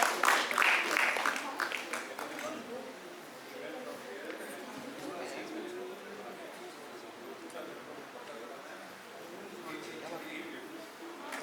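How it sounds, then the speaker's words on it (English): At an award ceremony, an audience claps for winners called up on stage. A burst of applause comes at the start and then fades into lighter scattered clapping and room murmur. "A big round of applause for them."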